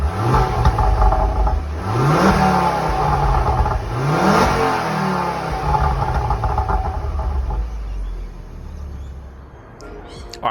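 Stock-exhaust Ford Focus XR5/ST MK2 engine revving up twice in rising sweeps, close and loud, then settling back toward idle, with a steady engine drone throughout.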